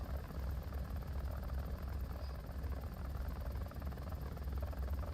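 A failing aircraft engine in a video game drones steadily with a low, buzzing roar, constant and fairly loud with no voices over it.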